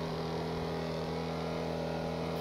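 A car engine idles in GTA RP with a steady, even hum and a low constant drone, moderately quiet and unchanging.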